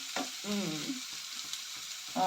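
Pieces of pesarattu sizzling and frying in a pan as they are stirred, a steady close hiss with soft voices murmuring over it.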